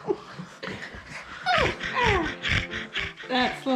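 Labrador puppies whimpering and yipping, with rising whines and short high yips repeating close by, mixed with their breathing while people talk.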